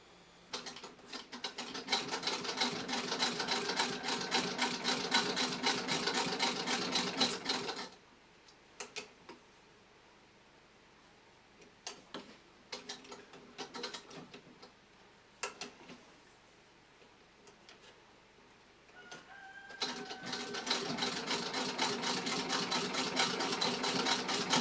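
A 1912 Singer 27 treadle sewing machine stitches a test quilt sandwich in a fast, steady run of close mechanical clicks and whirring for several seconds, then sparse knocks and handling noises, then another long run of rapid stitching.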